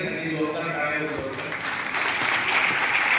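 Applause from the audience at a tribal gazetted officers' felicitation event in Navapur, a continuous wash of clapping that swells in the second half, with some voices underneath.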